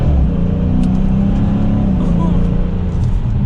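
A 2020 Dodge Challenger R/T Scat Pack Widebody V8 rumbles loud and close with a deep, steady exhaust note that swells slightly while driving, filling the whole stretch without a break.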